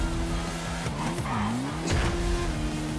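A fast hypercar engine in GTA V drones steadily with a sweeping pitch dip and rise as it shifts and corners, tires briefly squealing, loud and continuous.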